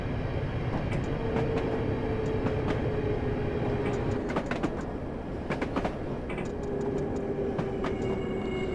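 A London Underground D78 stock train runs at Hammersmith, a steady rumbling interior roar with clicking wheel joints and a faint rising whine, with no talking.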